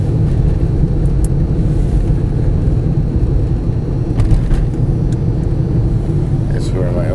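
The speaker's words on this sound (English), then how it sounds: "I'm driving to work" A car drives along a snow-covered road near Rochester, New York, with a constant low engine and road rumble heard from inside the cabin, steady from start to finish.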